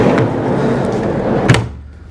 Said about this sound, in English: Anyway, another drawer, empty at the moment.